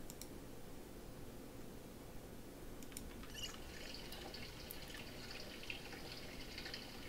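Water runs from a tap into saucepans in the video game Project Zomboid, a quiet, continuous filling rush with faint drips and small clinks, low in level and steady throughout.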